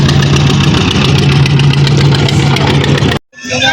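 A motorboat engine runs loud and close as the boat turns on a river, a steady droning rumble that cuts out abruptly near the end before a brief return of sound.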